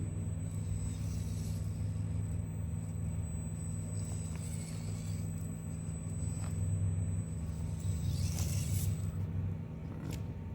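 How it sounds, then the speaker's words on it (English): An RC car fitted with a Furitek Chameleon motor on a V2 ESC hums with a low, steady motor rumble and a thin high whine, with brief throttle swells and faint rolling noise, close and without talk. "We have the Furitek Chameleon running on the V2 ESC."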